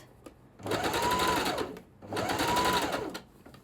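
A sewing machine stitches a facing around a garment armhole in two steady bursts of whirring, each about a second long with a short pause between, close and clear with no talk.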